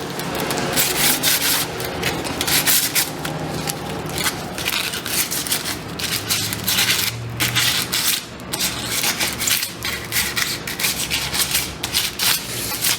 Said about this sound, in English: These rough edges will need to be slightly sanded.